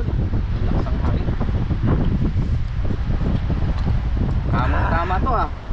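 Strong wind at sea during rough weather on a fishing trip, roaring steadily into the microphone as a loud, constant buffeting rush with no break, and a brief faint higher tone near the end.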